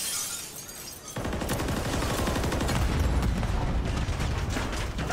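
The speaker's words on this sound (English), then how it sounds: "Man alive, what a hail of explosives, gunfire, you name it." Fast rifle fire and explosions burst from a Call of Duty tournament match between two pro teams. After a brief quieter start, dense rapid gunfire crackles and booms continuously and loudly.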